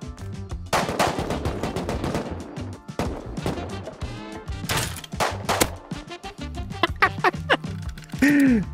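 Rapid video game gunfire with automatic bursts and single shots, loud and close, continuing almost without pause through the whole stretch.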